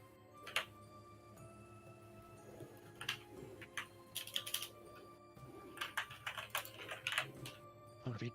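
Rapid bursts of keyboard typing clatter close by in irregular clusters, with pauses between flurries over a low steady background hum during a tabletop role-playing game session.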